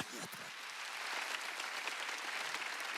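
A church congregation at a Wednesday worship service claps together, a steady, dense wash of applause that holds for several seconds and grows slightly louder.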